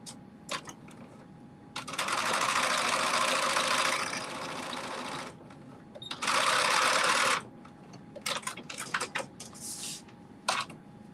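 A sewing machine stitches a 5/8 seam on a Simplicity 8424 garment, with two sustained whirring runs, the second louder, between short clicks and handling noises and a quiet room.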